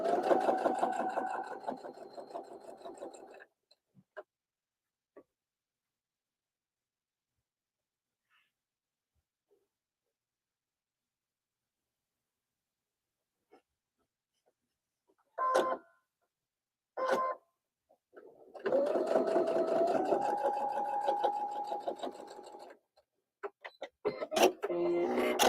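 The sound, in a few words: sewing machine stitching, chain piecing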